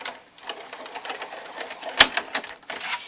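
A Cuttlebug embossing machine cranks a Sizzix embossing folder sandwiched between A and B plates, giving a steady run of soft mechanical clicks and rasps, then one sharp, louder click near the end.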